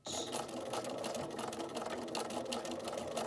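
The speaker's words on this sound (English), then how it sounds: "I'll just start stitching and do a little back stitch" A sewing machine stitching a concealed zipper, starting with a short back stitch, runs as a steady, continuous close-up whir and rapid needle clatter without pause.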